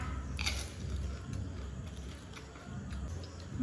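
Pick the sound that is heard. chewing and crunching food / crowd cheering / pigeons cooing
chewing and crunching food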